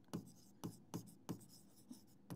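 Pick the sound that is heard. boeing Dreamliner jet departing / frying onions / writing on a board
writing on a board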